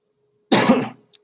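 One sharp, close cough from a person during a gardening webinar, loud and short with a brief tail, alone and without speech.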